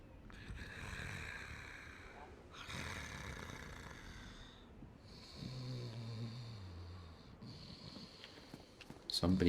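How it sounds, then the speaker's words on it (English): A character in Dark Souls Remastered snores in repeated rasping breaths with rhythmic pauses, fairly faint, mixed with game sounds and a louder clatter at the end. "Somebody is snoring."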